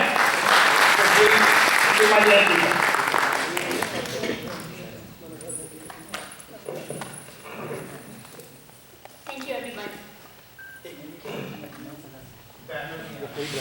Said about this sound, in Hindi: मैं चाहूंगा जोरदार तालियों से आप स्वागत करें।